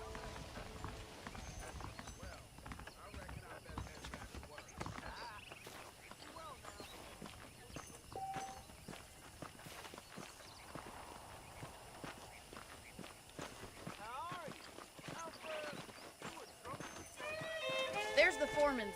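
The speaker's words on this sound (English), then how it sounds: "The horses are saddled up over here." Saddled horses in the video game Red Dead Redemption clip-clop quietly at a walking pace amid soft ambient game sound, with someone speaking over them and a louder burst near the end.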